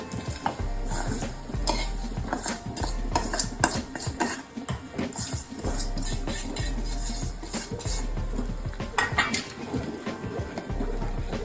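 Semolina (rava) being stirred into a pan of vegetable upma with a metal spoon: repeated clanks and scrapes against the pan keep up a busy rhythm, with faint sizzling underneath and no talk.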